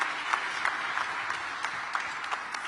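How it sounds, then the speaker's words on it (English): Audience applause at a televised presidential debate with Donald Trump, steady broadband clapping from a crowd throughout, moderately loud with no voices over it. "Why are they applauding?"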